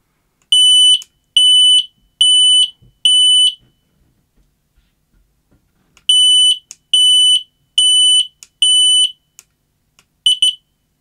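A modern carbon monoxide detector sounds its alarm while the test button is held: four loud, shrill piercing beeps, a pause, then another run of sharp beeps, close and clear.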